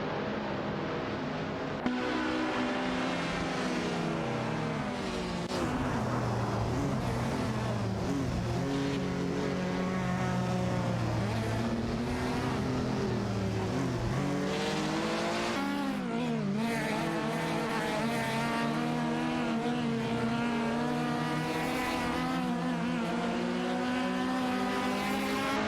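Race cars in a video game race, including a Ford Escort Mark I, a Tova Griffith 200 and a Fiat X19 Dallara, roar continuously at high revs with shifting engine pitches and occasional tire squeal, loud and unbroken throughout.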